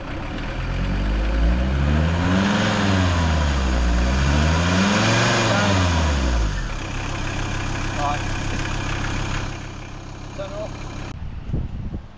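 A campervan engine idles in a UK national park while apparently failing, a loud low rumble with a rhythmic wavering pulse that settles into a rougher steady idle before cutting off near the end.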